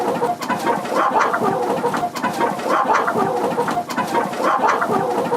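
Chickens on an improved kienyeji chicken farm, a busy, close flock producing overlapping clucks and soft calls in a continuous chatter, with no talking.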